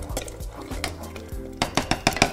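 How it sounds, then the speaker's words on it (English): A cooking pan holding lamb kofta curry is shaken and stirred: close metallic scrapes and knocks, then a fast series of clinking strikes toward the end. "So what I'm doing is shaking the pan."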